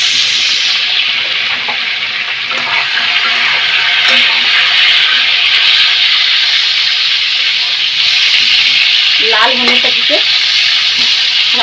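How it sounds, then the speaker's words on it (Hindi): Pointed gourd (patal) pieces fry in hot oil with a continuous, close sizzle and crackle, punctuated by occasional stirring clinks and a short scraping burst near the end. "पटल फ्राई हो रहा है"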